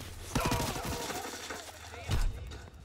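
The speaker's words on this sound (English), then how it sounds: "that was a good little shoot off right there" Gunfire in the Call of Duty WWII beta multiplayer game, with a few sharp bursts of shots and impacts under a player's excited talk over game ambience.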